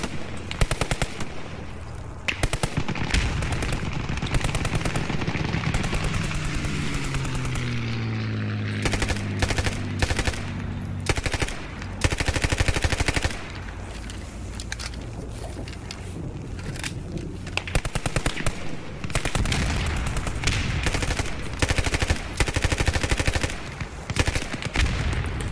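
Sustained bursts of machine-gun and rifle fire in the WWII game Post Scriptum during a trench assault, loud and dense with rapid rattling volleys, brief gaps and aircraft droning briefly partway through.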